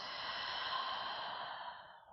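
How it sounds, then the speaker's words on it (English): A slow, steady exhaled breath during a calming yoga wind-down flow, soft and close, an airy hiss lasting about two seconds and tapering off at the end. "And a breath out."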